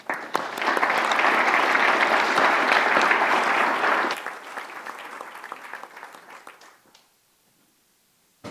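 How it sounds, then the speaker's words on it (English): A room full of people clapping loudly, the applause peaking then thinning into scattered claps before falling silent. "So please give a warm round of applause for David."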